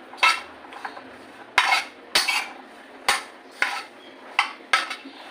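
Baby corn being mixed with spices in a bowl, a spoon scraping and clinking against the dish in about eight separate strokes, close and fairly loud with no talk.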